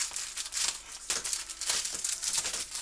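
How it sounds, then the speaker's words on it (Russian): Packaging crinkles and rustles as parcels are opened, a close, continuous crumpling of plastic and paper in uneven bursts. "Сегодня пришли две посылки. Я их буду открывать."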